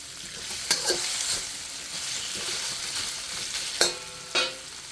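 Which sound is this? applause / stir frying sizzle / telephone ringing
stir frying sizzle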